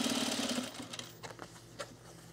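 A sewing machine runs a quick stitching burst along the seam of a men's utility jacket, then slows into a few short, faint pulses. Nobody speaks.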